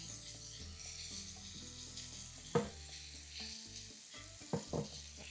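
Shrimp frying in a pan for fried rice, a steady low sizzle with clicks and a few sharp clatters as the pieces are placed and moved, close with no talking.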